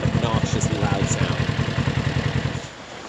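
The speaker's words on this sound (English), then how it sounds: "It gives you a tuned exhaust note without giving you that obnoxiously loud sound." Polaris RZR XP 1000 side-by-side fitted with a GGB trail muffler exhaust, idling with a steady, throaty low rumble and mild clatter, close and moderately loud, easing off slightly near the end.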